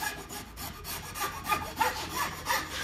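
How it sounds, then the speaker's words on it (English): A sharp hand file rasps in steady back-and-forth strokes on an oily metal part cleaned with brake cleaner, close and fairly loud, with no talk. "The way they're cut, man, that's a sharp file."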